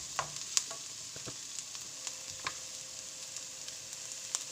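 Onion frying in a pan for pork pata kare-kare, a soft steady sizzle with scattered light crackles and pops and occasional stirring clicks, fairly quiet and with no talking.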